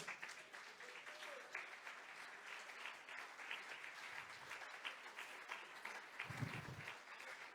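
Congregation applause at a Spanish-language evening worship service in church, a steady wash of clapping throughout, with brief low rumbles near the middle and end.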